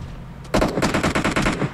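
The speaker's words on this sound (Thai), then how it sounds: "ตัดภาพมาเจอทศกัณฐ์ยิงฮะเรียบร้อยครับ" Automatic gunfire in the PUBG Mobile battle royale game during a Thailand pro scrim match, a loud rapid burst of about a dozen shots in quick rhythm after a short quiet lead-in.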